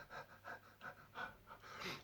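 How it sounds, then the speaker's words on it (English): A person panting and gasping for breath while struggling to breathe during a Covid-19 illness, a rapid series of short, quiet, rhythmic breaths heard close up with no talking. "So you're panting, you're gasping."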